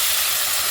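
Turnip and potato pieces dropped into frying spice paste give a loud, steady sizzle and hiss that runs unbroken through the short moment, close and without talk.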